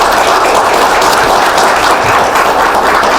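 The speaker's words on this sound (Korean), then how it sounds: "박수 한번 보내주시기 바랍니다" Audience applause at a Korean smart-industry forum awards event: loud, continuous clapping from a large crowd filling the whole stretch without a break, with no speech over it.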